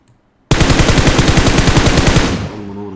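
A single long burst of rapid, evenly spaced automatic fire in PUBG Mobile starts abruptly after a short silence, runs close and loud for about two seconds, then cuts off into a fading ring.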